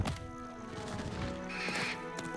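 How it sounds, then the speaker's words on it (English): A hippogriff in the video game Hogwarts Legacy makes whinnying, snorting calls while being fed, a short horse-like cry over game ambience, fairly faint. "Feed the hippogriffs."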